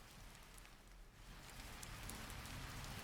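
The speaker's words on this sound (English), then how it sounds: "And yes, I do realize it is raining in the game and in real life for me." Rain falls in the video game Bobo's Bozarre Boventure as a steady, faint hiss of drops, continuous and unbroken and growing slightly denser toward the end.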